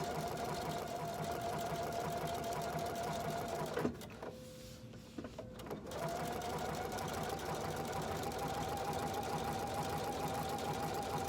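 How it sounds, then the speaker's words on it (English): A sewing machine top stitches through a cork handbag seam, running in a steady continuous whir that stops for about two seconds partway through and then resumes, close and alone. "I'm going to top stitch on both sides of the seam allowance"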